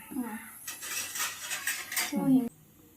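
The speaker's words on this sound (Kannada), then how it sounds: "ಸೊ ಇವಾಗ ಬ್ರೆಡ್ ತೊಗೊಂಡು ಅದ್ರದ್ದು ಎಡ್ಜಸ್ ಎಲ್ಲ ಕಟ್ ಮಾಡ್ಕೊಳ್ತೀವಿ" A knife clatters and scrapes against a plate or board as the edges are trimmed off bread slices in a home kitchen, close and busy, with a couple of brief voices in the background.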